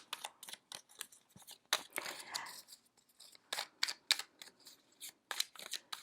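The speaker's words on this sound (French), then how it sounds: "on va maintenant vous sortir deux petites cartes pour votre semaine du 4 au 10 mai" Tarot cards are drawn and handled from a deck, giving a quick series of crisp snaps, rustles and shuffling flicks, close and fairly quiet, with no talk.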